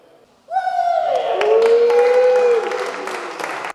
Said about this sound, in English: Family and friends waiting outside to cheer them on.